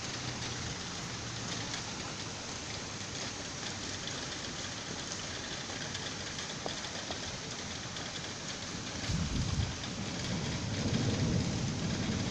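A violent summer thunderstorm in Saint-Denis pours steady, dense rain, with a deep rumble of thunder rolling in near the end, loud and continuous with no voices.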